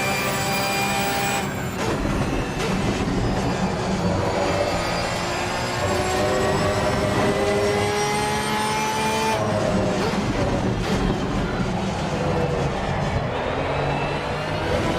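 Race car engine in a racing video game, a loud continuous high-revving whine with shifting pitch as the car accelerates and brakes through corners, with gear changes and engine drone filling the whole stretch, no talking.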